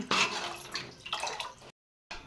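Water poured from a small brass pot into a cooking pot of toor dal for chakolya, a steady splashing gush in two bursts broken by a short gap, close and moderately loud.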